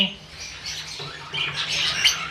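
Six pet budgerigars, opaline and dilute opaline, chirp and squawk in an aviary over a low background hum, the calls rising and growing busier toward the end.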